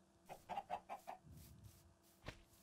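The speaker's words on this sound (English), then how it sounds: "Oh, chickens." Chickens cluck in Minecraft: a quick run of four or five clucks, then a single cluck after a pause. All are quiet and sit over a faint game background.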